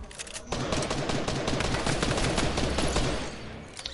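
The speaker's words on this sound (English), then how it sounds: "I'm really gonna have to do rapid fire SMG versus a Tommy gun." Rapid automatic gunfire from a video game SMG and Tommy gun, a dense continuous rattle of shots running loud and close after a brief quieter start, with no talking.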